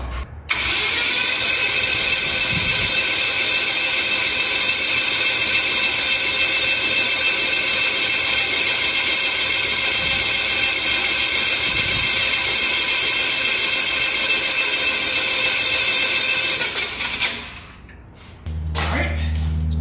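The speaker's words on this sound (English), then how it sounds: "I'm gonna crank it until I start seeing some oil pressure." An aircraft engine's starter cranks continuously for about seventeen seconds while building oil pressure, a loud, steady whirring grind with a ratcheting mechanical edge that winds down abruptly near the end.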